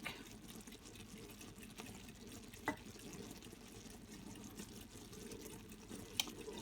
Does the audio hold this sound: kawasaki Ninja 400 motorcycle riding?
no